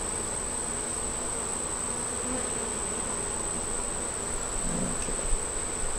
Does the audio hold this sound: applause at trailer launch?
no